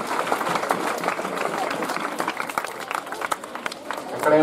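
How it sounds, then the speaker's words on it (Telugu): An audience at a public event in Darsi for the launch of the Amma Vodi scheme claps in a broad, steady patter of applause that continues throughout, with crowd noise mixed in. "అందరూ కూడా చప్పట్లతో ఆయన ధన్యవాదాలు చెప్పాల్సిందిగా కోరుకుంటున్నాను."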